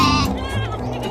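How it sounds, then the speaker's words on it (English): A goat bleats once, loud and close, with a wavering nasal cry over a steady background of music. "G for goat."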